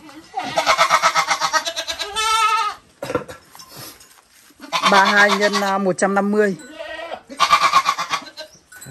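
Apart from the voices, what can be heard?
goats bleating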